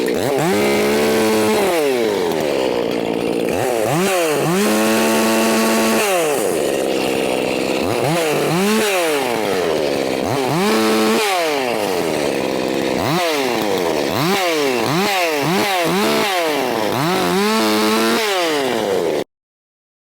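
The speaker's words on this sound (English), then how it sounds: "I give you the Echo CS4310SX, ported by Mr. Charlie Briscoe, documented at 5 horsepower." Ported Echo CS4310SX chainsaw, about 5 horsepower, cutting up a whole tree: loud, close engine repeatedly revving to a high scream under load, then dropping back between cuts.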